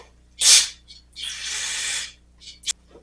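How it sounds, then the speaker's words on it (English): Several short bursts of aerosol cleaner hissing up close onto lawn mower engine parts, one sharp puff followed by a longer sustained spray and a couple of quick spurts. "I'm just kind of spraying a little bit of cleaner on everything"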